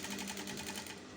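A sewing machine runs steadily, top stitching a seam on a halterneck dress, with a continuous fast mechanical whir and a faint rapid needle rhythm throughout.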